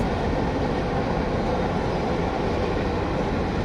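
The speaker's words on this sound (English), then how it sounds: "These trains are both going west." A steady, dense rumble of freight trains rolling past on a railroad, loud and unbroken, with no voices.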